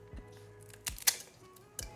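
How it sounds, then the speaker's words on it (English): Kitchen scissors snip chili peppers, producing a few short, crisp clicks spaced apart. They are close but quiet, and no voices are heard. "a quick snip with the scissors"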